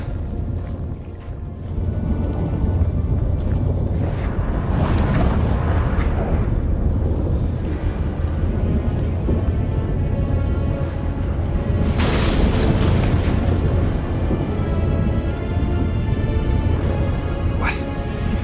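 Storm in the Witcher 3: The Wild Hunt game world, a steady loud roar of wind and rain with deep rumbling booms of thunder swelling around the middle and again near the end, with voices talking briefly over it.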